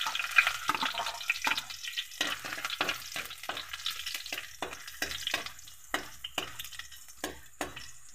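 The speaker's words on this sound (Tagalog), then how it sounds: "Magigisa na tayo ng bawang." Garlic sautéing in hot oil in a wok, a steady close sizzle broken by repeated sharp scraping stirs at an irregular rhythm, with no voices.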